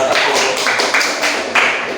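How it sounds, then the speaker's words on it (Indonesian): A class claps together in a steady, brisk rhythm, the hand claps close and fairly loud, a few seconds of collective applause. "Tepuk tangan dulu."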